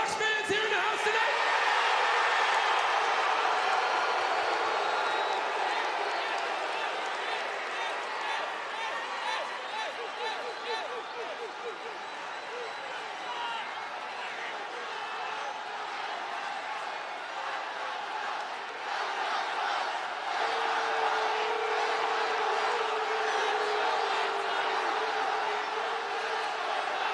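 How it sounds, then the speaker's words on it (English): A packed WWE SmackDown arena crowd in Chicago roars and chants steadily for the whole stretch, loud and close, with an announcer's voice speaking over the noise. "of all the things that you guys could be chanting, I figured you'd be chanting Go Cubs Go"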